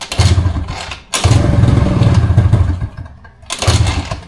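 A Honda Dio scooter engine is kick-started, with repeated chugging, thumping turns of the kick lever in three short loud bursts, the motor sputtering close by without fully catching.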